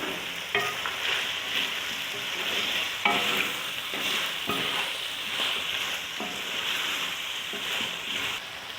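Rice, vegetables and whole black peppercorns frying in a pot while being stirred, a continuous sizzle broken by scraping strokes of a spoon at irregular intervals, close up and without talk.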